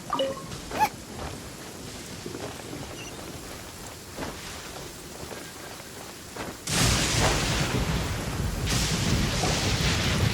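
A thunderstorm in Genshin Impact: steady rain hiss with faint rumbles, then a loud thunder crash breaks in partway through and heavy rain roars on to the end.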